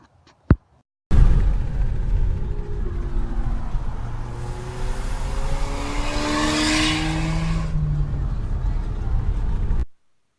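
A 2019 Ford Mustang EcoBoost with its muffler and resonator deleted starts with a sharp crack and settles into a loud, raspy idle that rises and falls through several revs before cutting off abruptly, recorded close with no talk.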